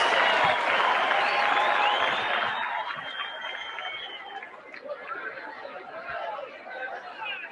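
A wrestling crowd at The Great American Bash, July 5th 1986, in North Carolina, applauds and cheers as a dense, steady roar with scattered chatter and laughter, loud at first and then easing slightly.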